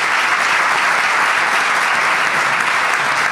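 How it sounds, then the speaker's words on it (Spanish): Loud, close applause from a studio audience, a dense and even wash of many hands clapping steadily with no pauses or voices. "este aplauso nuestro y de parte de todo el público es para ti"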